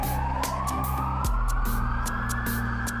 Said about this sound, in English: They ride in a fire truck. The siren is loud.